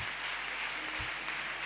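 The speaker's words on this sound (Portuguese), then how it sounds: "Aplausos." Applause from an audience, a continuous wash of clapping heard briefly and steadily throughout.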